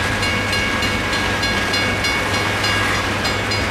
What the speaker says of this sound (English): This is a big train.